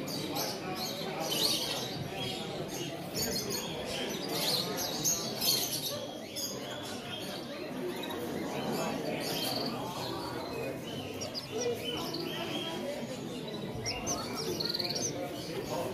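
Birds at a street bird show in Morocco chirp and tweet in busy, overlapping calls over a murmur of street noise, with faint background voices throughout.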